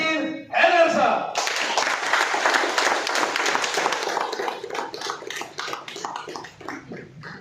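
Audience applause welcoming a speaker at an event in Attock, dense steady clapping that swells quickly after a brief announcing voice, then slowly thins out, close and loud.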